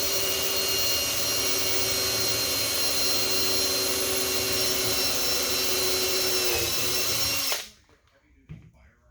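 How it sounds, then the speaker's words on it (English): Drill bit boring steadily through an acrylic instrument panel for a Cessna 140, a continuous high whine that runs loud and unbroken before cutting off abruptly near the end, leaving faint handling noises. "acrylic in there and you can feel the warmth of the drill bit"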